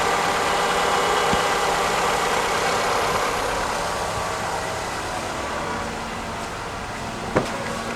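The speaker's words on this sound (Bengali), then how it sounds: "এখন ভিউয়ার্স গাড়িটি স্টার্ট অবস্থায় আছে এবং সাথে হচ্ছে আমার এসি সহ দেওয়া।" A 2012 Nissan X-Trail idles steadily with the air conditioning running, giving a smooth, even engine hum close by with no speech and one brief click near the end.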